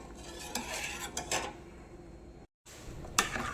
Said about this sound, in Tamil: அடி பிடிக்காமல் இருக்கிறதுக்காக நல்லா இப்படி கிண்டிக்கிட்டே இருங்க